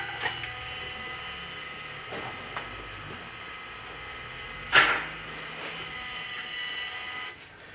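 Motorised control valve on a sediment backwash filter starting its regeneration cycle, giving faint ratcheting mechanical clicks and whirs with one sharper clunk partway through, over a quiet steady hum.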